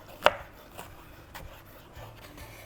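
Green bell pepper is sliced into thin strips on a board, with one sharp knife knock followed by a few softer, irregular cuts close up and a faint background hum, and no speech.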